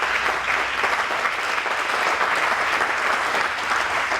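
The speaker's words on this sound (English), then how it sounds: "bring a round of applause" Steady audience applause at a regional business breakfast, a dense even wash of many hands clapping at full volume throughout, with no break and no voices standing out.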